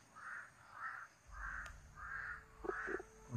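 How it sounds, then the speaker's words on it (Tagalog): A crow circles overhead in an outdoor survival setting, giving five evenly spaced, clear caws against quiet background hiss, followed by a couple of soft thuds nearby. "may uwak paikot-ikot sa atin,"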